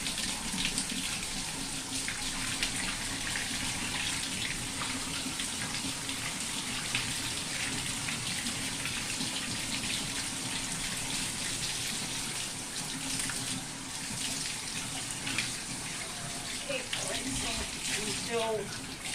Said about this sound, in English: So we'll just start rinsing all this out.